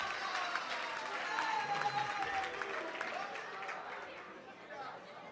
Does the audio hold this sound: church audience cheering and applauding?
yes